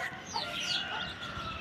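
A parrot calls from a rooftop with a few shrill, sweeping squawks, fairly close and clear over faint outdoor background noise.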